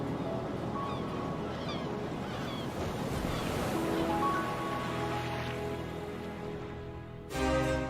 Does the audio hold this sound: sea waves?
yes